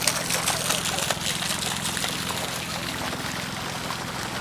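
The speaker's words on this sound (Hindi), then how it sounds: "गार्डन में पानी के फव्वारे भी लगे हुए हैं।" Water fountains splash in the tulip garden in Srinagar, Kashmir, a steady broad rush of spraying and falling water running throughout, with a faint low hum mixed underneath.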